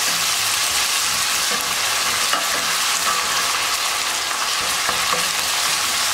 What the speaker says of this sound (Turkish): Sarımsaklarını fazla kızartmayacağım.